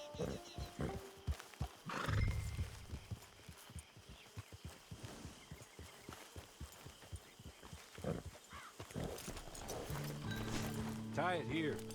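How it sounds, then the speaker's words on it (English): A horse in Red Dead Redemption 2 whinnies loudly near a camp, with hoof clip-clops and rustling around it and game characters talking over parts of it. "It's your horse."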